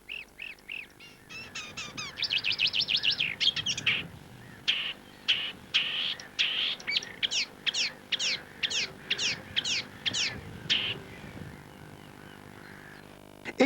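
Icterine warbler singing its mimicry-rich song, a rapid run of varied, chattering notes followed by a series of evenly spaced nasal, honking calls, close and clear with no voices.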